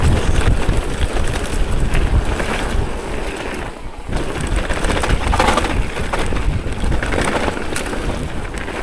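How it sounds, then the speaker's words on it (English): Strong wind buffeting the microphone at Dyfi Bike Park, a loud continuous roaring rumble that barely dips at one point and otherwise stays constant. "Windier than the first time."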